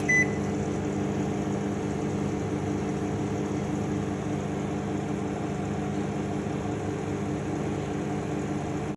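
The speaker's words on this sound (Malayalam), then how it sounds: "ഈ 4 നമുക്കൊന്ന് മൈക്രോവേവ് ചെയ്യാം ഒരു 1 മിനിറ്റ് ആദ്യം" A steady, even microwave hum drones on without a break while heating four frozen porottas, a constant mechanical whir with a faint high tone above it and no talking.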